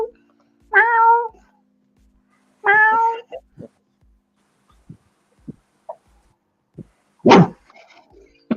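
A cat meows twice, clear and close, during a live action-figure painting session, with short scattered clicks and taps between the calls and a sharper noisy burst near the end.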